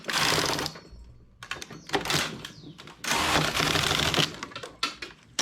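A knitting machine carriage is pushed across the needle bed for two rows of colored stitch work, making rapid clattering mechanical bursts separated by brief pauses, close and fairly loud.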